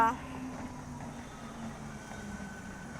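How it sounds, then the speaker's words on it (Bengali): Steady low rumble of a local passenger train rolling past at a moderate distance, continuous for the whole stretch with faint background talk. "ট্রেন যাচ্ছে ট্রেন যাচ্ছে ট্রেন যাচ্ছে"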